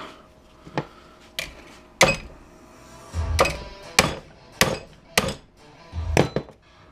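Sharp, separate cracks and snaps as the plastic casing of a Garrity crank LED flashlight is squeezed and broken apart, about ten distinct breaks at uneven intervals, close and loud with quiet between them.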